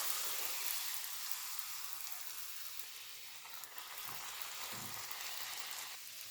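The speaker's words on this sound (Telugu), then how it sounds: "వేడిగా ఉంటేనే బాగా వస్తాయి పూరీలు మంచిగా కాలుతాయి నూనె మంచిగా వేడిగా ఉండాలి" Puris deep-frying in well-heated oil, a soft continuous bubbling sizzle, faint and steady with a few small pops.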